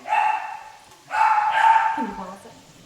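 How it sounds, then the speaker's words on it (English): A small 10-pound Morkie barking indoors near the microphone in a home kitchen: two sustained high yapping barks, the second longer and trailing into a whine. "My dog is a 10-pound Morkie, and he loves to bark."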